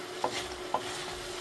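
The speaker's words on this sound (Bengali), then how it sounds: "পাস্তাটা অল্পক্ষণ আমি কষিয়ে নিলাম" Pasta with tuna sautéing in a pan, with two soft scraping stir strokes over a faint, steady sizzle, quiet and close.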